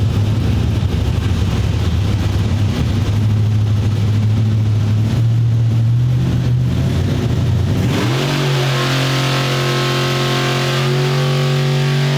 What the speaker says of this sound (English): When you start up an engine With the throttle and the open.